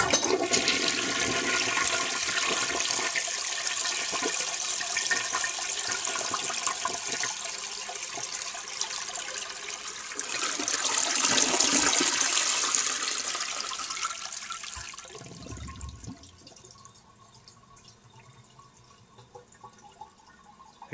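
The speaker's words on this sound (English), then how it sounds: "I'll end the video by giving the compact a flush." A 1948 Standard Compact toilet gives an old-fashioned four-gallon flush, a loud rushing swirl of water for about fifteen seconds before it drops to a quieter refill trickle and drips.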